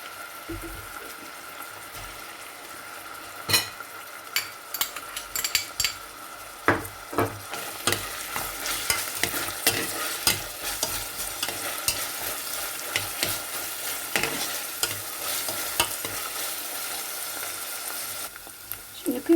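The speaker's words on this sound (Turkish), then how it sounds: "Tereyağımla birlikte soğanlarımı da güzelce kavurdum." Onions and minced meat sautéed in butter and oil in a pan, with a utensil stirring and scraping repeatedly over a steady close sizzle for the whole stretch.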